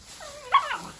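A Dalmatian puppy playing in hay and straw gives one short, high whimper that rises and wavers close by, in an otherwise quiet moment.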